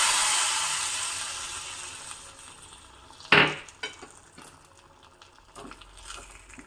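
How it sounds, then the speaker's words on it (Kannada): Ghee tempering with mustard seeds, asafoetida and dried chillies hits a pot of North Karnataka Madhwa-style melogara side dish: a sudden sharp sizzle bursts out, then fades into a softer frying hiss with a few small crackles. No one speaks. "ಈಗ ಇದಕ್ಕೆ ತುಪ್ಪ ಸಾಸಿವೆ ಇಂಗು ಮತ್ತು ಒಣಮೆಣಸು ಹಾಕಿರೋ ಒಗ್ಗರಣೆ ಹಾಕ್ತಾ ಇದ್ದೀನಿ"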